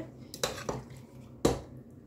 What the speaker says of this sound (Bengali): মিক্স করতেছি সব মাংস টাংস একসাথে।